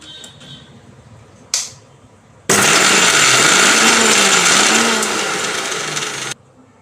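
A mixer grinder grinds ginger chutney, made without garlic, for masala dosa. After a short whirr, it roars loud and steady for about four seconds, then cuts off.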